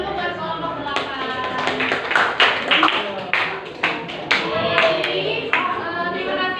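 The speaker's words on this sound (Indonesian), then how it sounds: "Kasih tepuk tangan dulu buat kelompok 8." Classroom clapping for a student group after their presentation, a cluster of hands tapping in uneven bursts from several people, moderately close, with voices talking over it.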